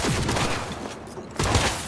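Rapid bursts of gunfire from newly acquired weapons in Cyberpunk 2077, loud and close, with a brief gap before another volley starts.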